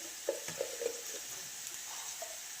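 Chili powder, turmeric and ground fenugreek get stirred into curry leaves frying in a pan for Kerala-style moru curry, with a faint steady sizzle and a few soft spoon scrapes early on.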